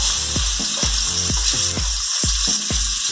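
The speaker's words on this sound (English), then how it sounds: "Here goes the pineapple rings, so we're probably going to do two of these for this burger" Pineapple rings for a burger hiss loudly in hot bacon grease in a pan, a close, dense sizzle with a series of quick, repeating tonal pops and clicks.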